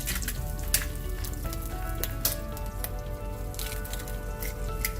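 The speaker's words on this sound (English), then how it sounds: "in that oil that's left, we will be cracking our eggs and scrambling it" Eggs scramble in leftover oil in a hot pan, a steady close sizzle and crackle with scattered pops and spatters throughout.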